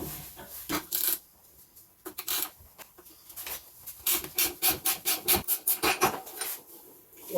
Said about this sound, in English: So we will start by loosening the stabilizer or the drop link.